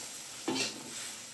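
Food with lemongrass is stirred in a frying pan, giving one brief scrape of the utensil over a steady low sizzle, close and quiet.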